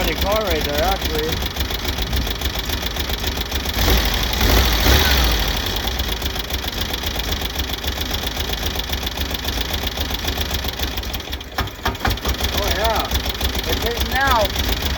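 A 1970 VW Bug air-cooled engine idles steadily after a cylinder 2 misfire repair, a continuous loud rumble with exhaust noise throughout, while people talk over it.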